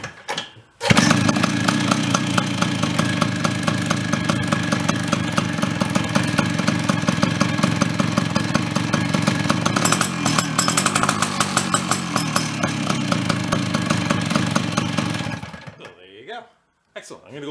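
A junk Chrysler Sno-Runner engine fires up and runs steadily at a loud, close rasping idle for about fifteen seconds before cutting out, with voices talking briefly.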